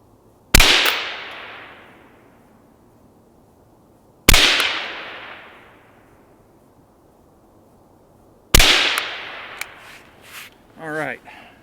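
Three loud, sharp rifle shots fired outdoors at 100 yards while zeroing a thermal scope, spaced about four seconds apart, each with a long decaying echo, followed by brief faint speech after the last shot.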